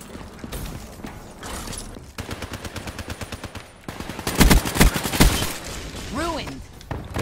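Rapid bursts of KN-44 assault rifle fire in Black Ops 3 multiplayer, several volleys of automatic shots in quick succession, loud and close, mixed with game effects.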